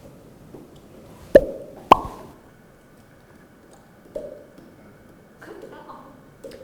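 Sharp tongue clicks against the teeth, a few distinct pops spaced irregularly, some higher-pitched than others, close and fairly quiet, with faint talking between them.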